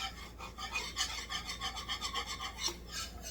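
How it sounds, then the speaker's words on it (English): A whisk scrapes and stirs flour into meatball drippings in a pan, giving a quick, rhythmic rasping that repeats several times a second, close up and fairly quiet, with no talk. "So we're going to start mixing it with our whisk."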